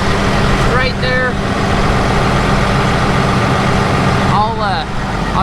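A heavy truck engine idles steadily and loudly close by, a constant low rumble with a couple of brief squeaky sounds over it.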